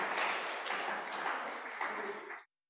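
Congregation clapping hands together in a church service, a dense, sustained burst of applause from many people that continues steadily and then stops abruptly.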